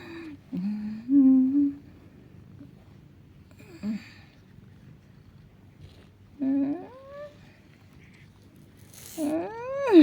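Two pet cats meow several times at separate moments, with short rising and falling cries spaced across a quiet indoor room, the last one louder and more drawn out.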